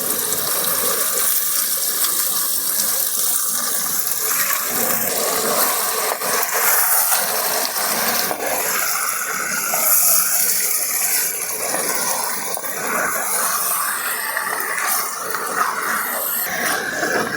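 Chicken pieces fry with onions in oil, a dense, steady sizzle heard up close that carries on evenly for the full length with slight crackling variations.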